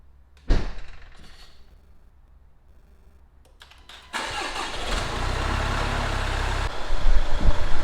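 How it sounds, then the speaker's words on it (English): Someone gets into a Range Rover Velar: a door thud, then rustling and clicks from inside the cabin, and the engine cranks and catches into a steady, loud idle with a short rev near the end. "Now I'm gonna jump into the Velar and start the car and prep the battery"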